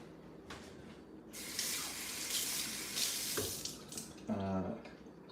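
Tap water runs into a sink to rinse measuring utensils for cocktail making, a faint splashing stream that starts partway through, with a few clinks of utensils near the end.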